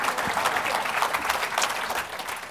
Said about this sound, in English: Please, another round of applause for our distinguished speaker.